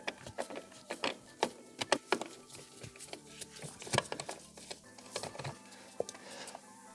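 A plastic nut is worked off a BMW X1 FRM lighting control module, giving a series of sharp plastic clicks and small ticks at an irregular pace, close and fairly quiet.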